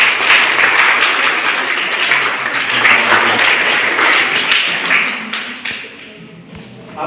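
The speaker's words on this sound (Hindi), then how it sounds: "सबका स्वागत करिए तालियों से" A school audience gathered for an Ambedkar Jayanti event at a girls' inter college claps in welcome for the teachers, with dense, sustained applause that stays loud for several seconds and then thins out toward the end.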